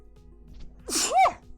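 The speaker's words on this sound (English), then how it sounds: "Your teacher had to sneeze." One sharp human sneeze, close and loud, with a quick inhale building into the burst before the room falls quiet again.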